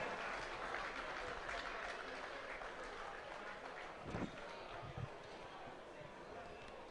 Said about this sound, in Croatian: Molim vas, još jedan aplauz za njih.